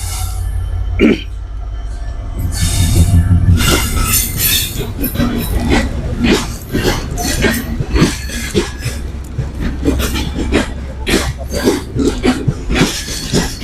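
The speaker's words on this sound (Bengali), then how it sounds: "আর একটা কিন্তু ট্রেন চলে আসছে" A train rumbles loudly and steadily through Dhaka's Airport railway station, with metallic clanks and wheel squeals on top, while people's voices mix into the noise.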